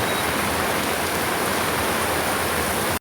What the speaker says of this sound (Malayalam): മഴയുടെ സൗണ്ട് കേൾക്കുമ്പോഴത്തേക്കും നിങ്ങൾക്ക് മനസ്സിലാവും.